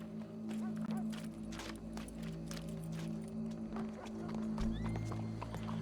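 Horse hooves clip-clop at a steady walking rhythm in the video game Red Dead Redemption 2, fairly close, under a low droning music bed with occasional voices.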